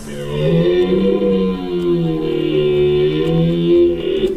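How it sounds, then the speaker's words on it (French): A deer gives a deep, drawn-out moaning bellow with a rich, buzzy tone, rising and falling slightly as it carries on for several seconds. "Le cerf."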